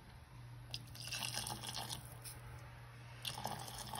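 Hot water poured over freshly cut goat mutton in a pressure cooker in a home kitchen, a faint, steady splashing pour with a few soft drips.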